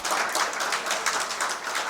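Audience applause at a seminar on Bihar, a brief round of clapping from a crowd with a fairly dense, fluttering rhythm.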